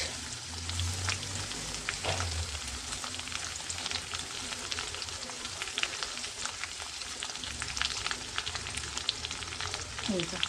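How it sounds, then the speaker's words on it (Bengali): Chopped onion and sliced garlic fry in hot oil for Bengali dhaba-style mustard greens, a steady close sizzle with occasional stirring scrapes running throughout. "এরপরে আমি দিলাম হচ্ছে পেঁয়াজ"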